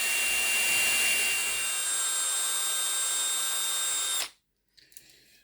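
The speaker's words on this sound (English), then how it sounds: "I want to drill a bigger hole just in there" A power drill whines loudly and steadily for about four seconds while drilling a hole in a Hornby Black 5 model locomotive, then cuts off abruptly, followed by a brief faint rattle.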